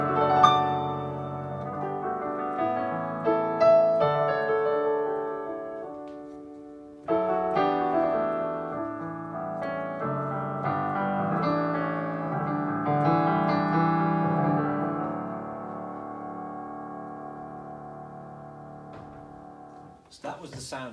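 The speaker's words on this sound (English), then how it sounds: "So that was the sound of the new CFX grand piano sample on the CLP735." A Yamaha CLP735 digital piano plays its CFX grand piano sample in a flowing passage of chords and melody. Notes ring and sustain with a resonant decay, the playing is clear and unaccompanied, and it ends with a brief sharp sound.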